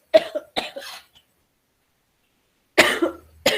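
A female teacher coughs several times in short, sharp bursts, pauses in silence, then coughs again, close and clear in a quiet classroom.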